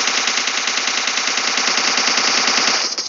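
Rapid automatic gunfire rattles in PUBG Mobile's zombie mode, a loud, dense, unbroken burst of evenly spaced shots lasting the whole stretch before cutting off at the end.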